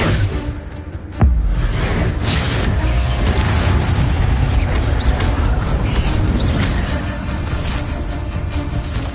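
Protego shield charm spell in the video game Hogwarts Legacy: a sudden loud boom with a whooshing surge, followed by a sustained rumbling, crackling magical texture that stays close and fairly loud throughout.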